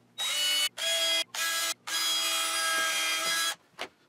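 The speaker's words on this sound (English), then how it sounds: "continue drilling the mounting holes through the existing ones up into the spacer blocks" A power drill whines loudly through wood, drilling mounting holes into spacer blocks under a slab desk, in several bursts separated by short pauses, ending with a brief final spurt.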